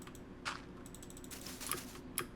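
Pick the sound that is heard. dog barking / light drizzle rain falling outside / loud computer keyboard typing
loud computer keyboard typing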